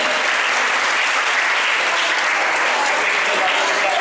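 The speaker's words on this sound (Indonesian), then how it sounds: "Coba kasih tepuk tangan sekali lagi buat teman yang berani." Junior high school students in a classroom at SMP Negeri 10 Surabaya applaud together in a dense, continuous burst of clapping that holds at an even, loud level from start to finish.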